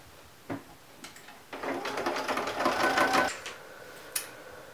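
A sewing machine stitching a straight seam across the bottom of the outer fabric for a boxy zipper pouch, a close rapid mechanical whirring run of about two seconds between brief clicks and knocks.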